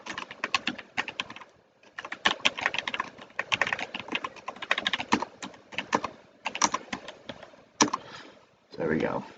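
Rapid bursts of typing on a computer keyboard, entering trades during a stock trading session, with irregular clusters of keystrokes and short pauses between them, close and clear.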